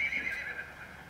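A horse in a temporary holding pen lets out a distant, fairly faint whinny, its quavering high call wavering for about a second over quiet background noise.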